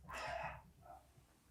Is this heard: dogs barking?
yes